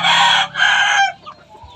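A chicken near a hut on a rural lot gives a loud, close, drawn-out crowing call in two strained phrases, then a few faint clucks trail off.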